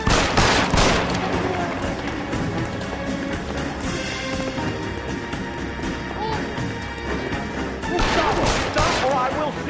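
Gunfire in the L.A. Noire crime video game: repeated loud shots in a burst at the start and another near the end, over a dense layer of game score and ambient noise, with shouted voices in between.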